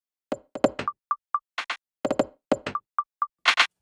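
A sparse percussion loop plays with swing in FL Studio: knocky hits, short pitched blips and airy shaker-like bursts fall slightly off the beat in a repeating two-bar groove, quiet and dry, with no talking.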